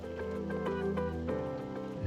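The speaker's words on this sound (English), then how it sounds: "it's pouring rain right now in Squamish" Heavy rain pours steadily in Squamish, heard as a continuous dense patter with a low drumming underneath, holding at the same level throughout with no voices.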